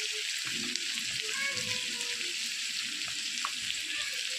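Tomato and salt frying in oil with onion for a potato curry, a soft, even sizzle that holds steady at low volume, with faint kitchen clinks and a murmur of voice.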